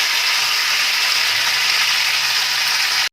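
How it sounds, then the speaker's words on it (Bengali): Mutton cooking in spices over a medium flame gives a loud, continuous, dense sizzle and frying hiss, close and unbroken throughout. "মাংসটাকে মিডিয়াম ফ্লেমে অন্তত 15 মিনিট কি 20 মিনিট আমি ভালো করে কষে নেব"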